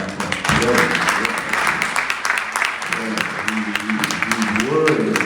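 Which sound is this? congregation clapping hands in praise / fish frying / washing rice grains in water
congregation clapping hands in praise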